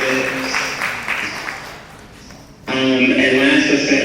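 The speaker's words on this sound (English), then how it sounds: "can we please give them a round of applause" Audience at a brunch gathering applauding, steady clapping that thins and dips briefly, then swells back louder with a sustained tone ringing over it.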